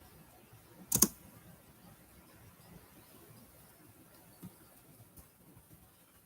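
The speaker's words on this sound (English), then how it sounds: "I'm typing" Computer keyboard typing in a quiet room: one louder burst of clattering keys near the start, then only faint, sparse clicks. No one talks.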